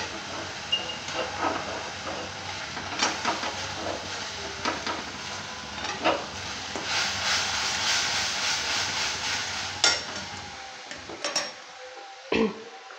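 Masala sautéed and stirred in a pan for a fair-style ghugni, a steady broadband hiss of sizzling with scattered scrapes and clicks from stirring, fairly close and continuous, ending in a brief quieter patch with a few knocks.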